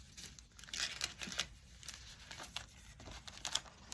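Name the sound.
paper sliding into a treat gift bag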